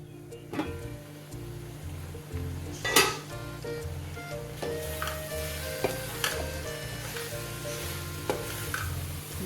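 Keema and cabbage with coriander and green chillies frying in a pan, a steady close sizzle broken by stirring scrapes and the occasional clink of a utensil against metal.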